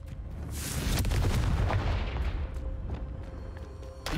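A Confringo fire spell is cast in the Hogwarts Legacy video game, setting off a booming blast that swells and then fades into a rumbling tail. Crackling bursts follow within the forest game setting.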